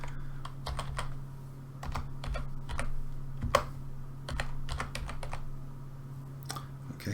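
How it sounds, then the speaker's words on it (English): Steady typing on a computer keyboard while entering a value into a spreadsheet formatting rule, quick bursts of clicks with short pauses, close up over a low electrical hum. "And then I'm going to type in the value I'm looking for."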